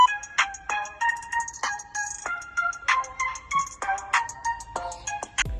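A ZTE Blade A56 budget smartphone's speaker plays a bright melodic test tune, a sequence of plucked, chiming notes with quick decays in a quiet room.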